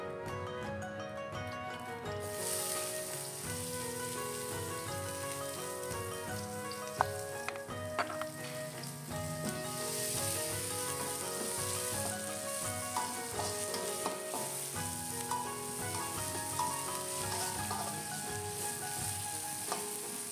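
Onions sizzle steadily in fresh oil in a wok previously used for frying fish, a dense, continuous crackling and hissing up close with occasional stirring clinks.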